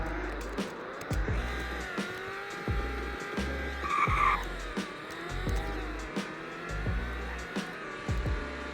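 A fast car revving hard through repeated gear changes during a 0 to 60 acceleration run, loud rising engine pulls broken by sharp shift gaps, with some tire noise.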